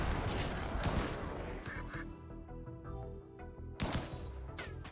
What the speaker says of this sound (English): There's a lot of ducks.